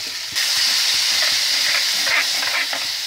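Boiled rajma and masala are stirred together in a hot pan, a loud continuous hiss of sizzling with a sudden rise early on and rhythmic low scraping of the spoon beneath.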